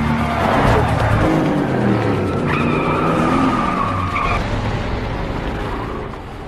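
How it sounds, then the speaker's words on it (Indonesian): Loud tires skidding and squealing amid roaring car engines in a movie chase scene, with a crash-like impact early on and sustained screeching that fades slightly toward the end. "mobil yang membawa mereka ditabrak oleh tim Albert"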